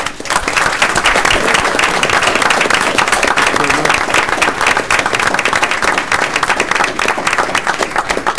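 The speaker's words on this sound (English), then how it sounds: "How about a round of applause?" An audience at a committee meeting applauds with dense, sustained clapping that stays loud and even for several seconds before tapering slightly at the end.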